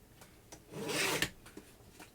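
A paper trimmer slices paper for a scrapbook page in a single rasping stroke lasting about half a second, close and soft, with light handling taps before and after.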